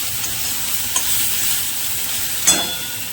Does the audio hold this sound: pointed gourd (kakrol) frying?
yes